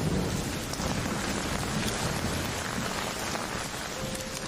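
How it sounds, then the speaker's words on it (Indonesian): Steady heavy rain pours at night onto a quiet street, a dense continuous hiss with no pauses and no voices. "Malam itu hujan turun yang membuat suasana di jalanan sangat sepi"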